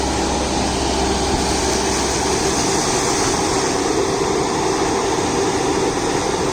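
A New Holland Workmaster 106 HP tractor engine runs steadily with a dense, continuous drone and broadband roar while driving a PTO mulcher through banana plants, close and loud throughout without pause.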